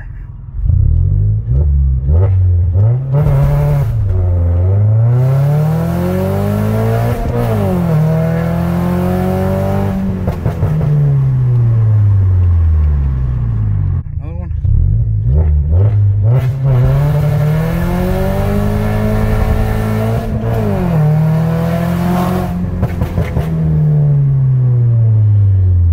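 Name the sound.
Toyota Corolla E210 car launch, engine revving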